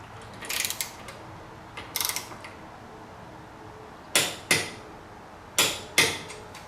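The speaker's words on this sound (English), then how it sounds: "And we'll start torquing them down." Bolts being torqued down on a Honda VTX 1300R motorcycle, heard as close, separate clicking bursts in pairs, like a ratchet wrench, with short quiet gaps between pulls.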